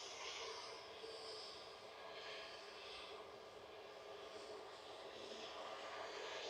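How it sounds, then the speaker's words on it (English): An EasyJet Airbus A320 landing on a far runway at Manchester Airport, a distant steady jet engine roar that swells and fades gently, faint and alone. "EasyJet just touching down on the far runway"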